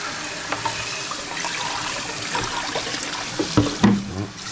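Water pours and splashes while an aquarium is rinsed out, a loud close continuous gush with scattered sloshes and drips.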